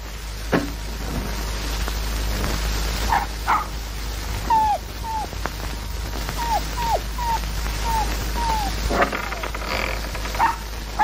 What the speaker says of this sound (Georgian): აყებდა ძაღლი